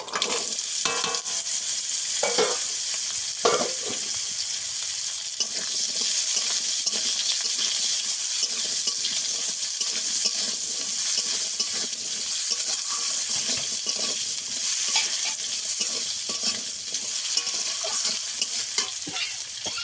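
Cut sweet potatoes frying in a five-spice tempering for a sour sweet potato dish with pond puti fish, giving a loud, dense, continuous hiss with occasional stirring scrapes throughout and no talking.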